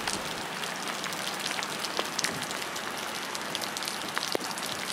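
Steady rain falls over the koi mud ponds at Yamakoshi, Japan, a dense close hiss of drops hitting surfaces with scattered sharper splats throughout and no voices.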